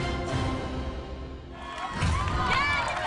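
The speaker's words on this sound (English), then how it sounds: "cheering on the vault chick are her husband, Cameron, along with 2 of her training partners" A husband and two training partners cheer and shout for a female athlete at an American Ninja Warrior course, excited voices rising over crowd noise, louder toward the end.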